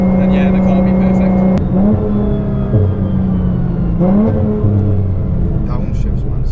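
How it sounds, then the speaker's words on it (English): A JM1300R GTR street car engine downshifting, loud and close, with steady harmonic drone stepping through pitch changes and brief revs between shifts, under continuous talking. "Downshifts, man, sound beautiful."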